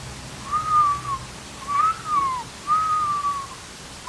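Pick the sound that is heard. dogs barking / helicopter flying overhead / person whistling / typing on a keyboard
person whistling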